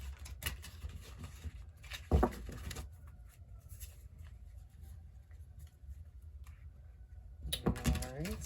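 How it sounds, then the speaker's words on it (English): Tarot cards are shuffled by hand in quick, soft riffling bursts, with crisp papery clicks and flutters at close range and quieter handling between the bursts. "let's do some shuffling."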